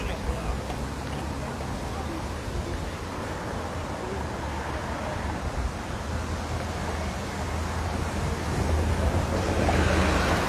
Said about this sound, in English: It's windy, boy.